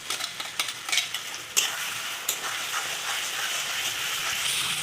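Spice paste of ginger, garlic and cumin frying in hot oil gives a steady close sizzle, broken early by several sharp clacks of a spoon against the pan.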